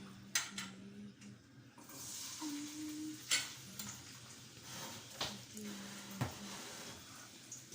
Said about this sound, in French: Faire revenir un peu l'oignon